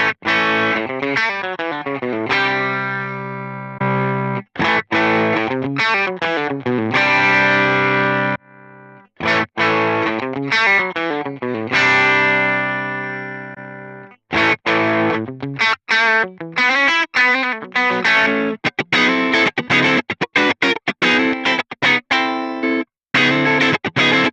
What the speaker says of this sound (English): just the red squeeze, obviously probably based around an MXR Dynacomp at the stock settings